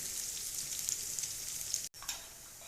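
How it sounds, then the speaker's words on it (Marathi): Onions frying in a pan with a soft continuous sizzle and faint occasional stirring, quiet and close, with a brief dropout near the end. "कांद्याला आपल्याला अजून मधून हलवीत राहायचं आहे"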